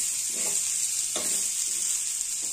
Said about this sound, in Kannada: ಒಂದು ಸ್ಪೂನ್ ಎಣ್ಣೆ ಹಾಕಿ ಒಂದು 2-3 ನಿಮಿಷ ಹಂಗಂದ್ರೆ ಫ್ರೈ ಮಾಡ್ಕೊತೀನಿ ನೋಡ್ರಿ